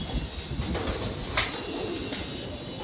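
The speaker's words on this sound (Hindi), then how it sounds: "बहुत से कबूतर ऊपर फड़फड़ कर रहे हैं" Pigeons on a rooftop give soft, repeated coos, with occasional brief wing flaps amid light background noise.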